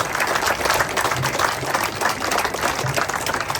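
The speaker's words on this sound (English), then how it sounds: "we should all give you a round of applause for everything that you do" A small group claps in a short round of applause at an outdoor motorcycle demonstration event, the uneven claps rising and falling in bursts, moderately close with some background noise.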